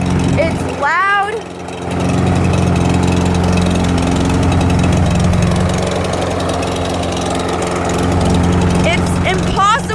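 A Troy-Bilt 550ex lawn mower engine runs steadily up close with a loud, continuous droning hum that dips briefly near the start, while a voice speaks over it.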